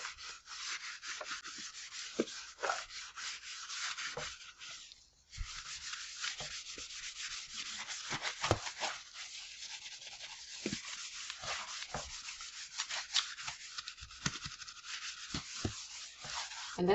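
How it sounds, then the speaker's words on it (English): Sandpaper rubbing over kitchen wall tiles in continuous close scrubbing strokes, a dry rasping texture with brief pauses and no talking. "what I do is I use sandpaper, and then I just go over them"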